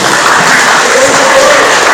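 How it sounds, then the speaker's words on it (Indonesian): Classroom applause from students during an Indonesian lesson, a steady dense patter of clapping that fills the whole moment at close range, with a faint voice mixed underneath. "Tepuk tangan dulu."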